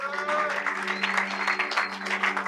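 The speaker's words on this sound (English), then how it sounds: "Can we just give him a big round of applause?" Church audience applauding after a sermon, a brief burst of clapping heard over a sustained tonal background.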